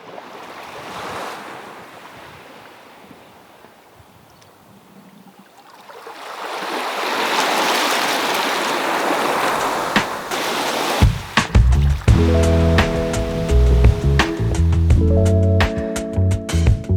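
Ocean waves surge and wash in a rising and falling roar with wind noise, building to a loud swell midway, before music with a steady beat comes in over the water.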